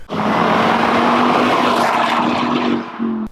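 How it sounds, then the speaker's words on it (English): Volvo C30 fitted with an aftermarket exhaust growls aggressively under acceleration, a loud sustained engine drone that rises and holds before a brief dip and return near the end, with no talk. "when you're accelerating, it howls. I don't want to say screams, because Greg's car screams. My car, it growls in a very aggressive manner"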